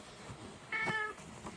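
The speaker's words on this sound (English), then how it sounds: "Meow. Yeah, meow." A house cat lets out one clear, fairly close meow partway through, followed by a softer trailing call, against a quiet indoor background.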